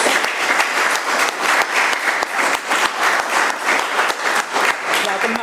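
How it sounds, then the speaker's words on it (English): AA meeting attendees in Colorado applauding together, loud dense clapping close by, holding steady for several seconds with a slight rise and fall in intensity. "Let's give Brian another round of applause"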